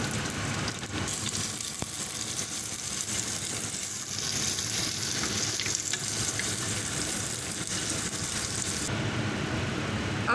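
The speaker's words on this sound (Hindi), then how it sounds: "अब प्याज डाल दूँगी इसमें। अब इसको गोल्डन ब्राउन कर लूँगी।" Chopped onions fry in hot oil for a mutton kofta curry, giving a loud, continuous sizzle that hisses steadily throughout, close up and without speech.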